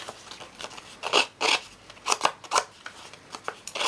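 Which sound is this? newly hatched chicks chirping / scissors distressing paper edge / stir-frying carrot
scissors distressing paper edge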